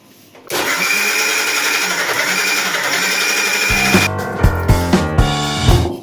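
A kitchen mixer grinder whirs steadily as it blends milk and eggs for junnu. It starts abruptly, runs at a loud, even pitch, then cuts off, followed by a few knocks and clatters of the jar.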